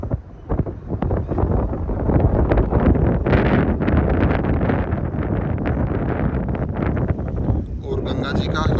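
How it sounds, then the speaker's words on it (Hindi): Strong wind sweeps across the Ram Jhula suspension bridge over the Ganges in Rishikesh, buffeting the microphone with a loud, continuous roar that barely eases from start to finish. "राम झूला पे बहुत तेज हवा, यही तो देखने आया था मैं।"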